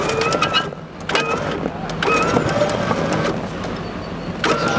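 A Kombat T-98 armored vehicle rolls off a large boulder, its engine rumbling steadily under a cabin recording, with brief clunks and knocks as it comes down.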